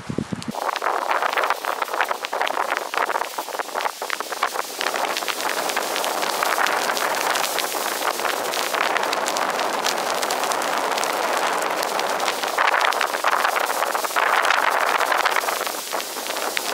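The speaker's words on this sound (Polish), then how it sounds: "Wiatr wieje z tamtej strony" Steady wind blows hard across the microphone in winter snow while a quinzhee snow shelter is built, with a constant rushing hiss and faint rustling, unbroken throughout.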